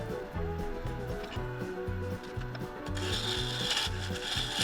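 A woodturning gouge shapes resinous wood spinning on a lathe during final shaping, giving a steady rhythmic scraping and rubbing with a regular low pulse, close and continuous throughout.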